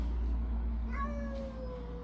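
A stable cat lets out a single drawn-out meow, clear and close, over a steady low hum of background noise.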